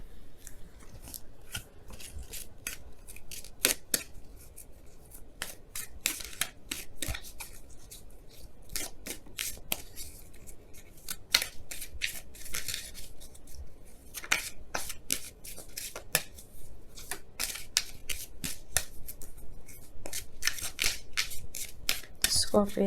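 Romance Angels oracle cards being shuffled and pulled, with quick crisp flicks and riffles coming in irregular bursts over a quiet room, close to the microphone.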